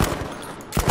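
Gunfire in the Battlefield V video game, a quick burst of rapid automatic shots at the start and again at the end of a one-second moment, loud and close.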